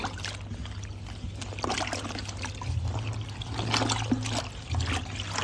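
Water pours and trickles onto suit lining fabric as it soaks, a close, continuous wet splashing with small gurgles and a low hum beneath.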